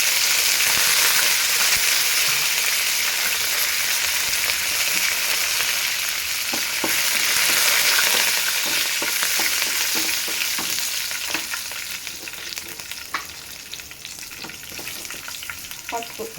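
Dry red chillies and curry leaves sizzle in hot oil as a tempering for mint chutney, a loud, steady crackling fry with occasional stirring clinks and no talking.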